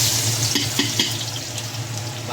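Garlic and onion sauté in a hot pan for a tofu and pork kangkong dish, a steady close sizzle with a few soft scraping stirs over a low hum.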